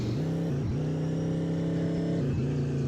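A car drives in the video game Dude Wars, its engine giving a steady, droning hum that dips briefly twice as the revs shift. The engine sound plays alone at an even, fairly loud level.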